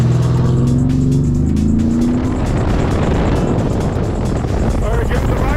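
A Ferrari SF90 with chrome wrap pulls hard away from a light, its engine note climbing from a steady low drone into a loud, dense roar that fills the rest of the stretch, heard from close by.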